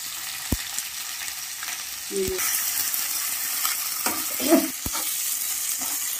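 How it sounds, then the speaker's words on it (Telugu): Onions frying in a pan for poha make a soft sizzle, broken by several sharp clicks and the scrape and clatter of stirring, close and fairly quiet, with no talking. "ఇలా బాగా వేగించాలి. దోరగా కొంచెం ఎర్రడాలు వచ్చేలా ఉల్లిపాయ వేయాలి."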